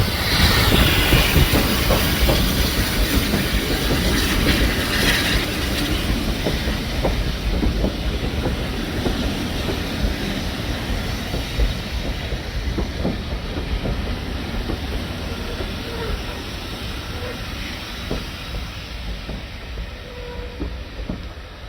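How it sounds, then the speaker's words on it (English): A Hunslet-built 0-6-0 saddle tank steam locomotive draws its train into a heritage-line station, giving a steady loud rumble with rhythmic wheel clatter and faint squeals that continue throughout, with no talking. "We crossed over the line to platform 2 as our train rolled into the station."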